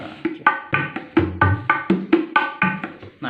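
A kendang drum is tried out in a music shop, giving a quick run of sharp hand strokes mixed with deeper booming tones in a lively, uneven rhythm, close and clear.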